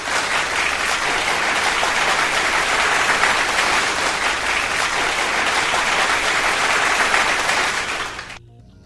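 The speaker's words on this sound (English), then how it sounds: "Yes, polite clapping." Sustained polite clapping from a sizeable group, dense and even for several seconds, then quickly tapering off to near silence at the end.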